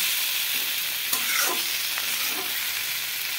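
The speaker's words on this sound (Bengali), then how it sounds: "এবারে একদম লো ফ্লেমে রেখে এটাকে ঢাকা দিয়ে আবারও টমেটোটা মশলার সঙ্গে কষাতে থাকবো আমি।" Tomato and spices sauté in a pan over a low flame, giving a constant close hiss of frying oil with a few scraping stirs of a spatula, and nobody speaking.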